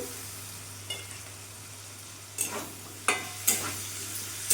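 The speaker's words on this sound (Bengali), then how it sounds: "ভালো করে মিশিয়ে নেবো নাড়াচাড়া দিয়ে" Green chili and chopped tomato are stirred in a pan for a soybean curry, with a faint sizzle over a low steady hum and a few distinct spoon scrapes coming in quick succession toward the end.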